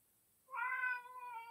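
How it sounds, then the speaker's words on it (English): A cat lets out a single drawn-out meow, close and clear in an otherwise quiet room, with no talking. "Recording Galda, not meow time."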